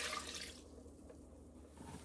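Slightly warm water poured into a stand mixer bowl for sourdough onion roll dough, a short faint splash that fades quickly into quiet kitchen background.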